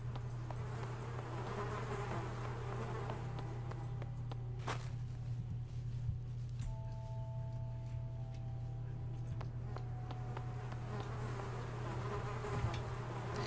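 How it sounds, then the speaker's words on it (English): Flies buzz steadily in the video game Project Zomboid, a constant close insect drone over a low hum, with a few faint clicks and thuds scattered through. "We're gonna need to take care of these freaking flies."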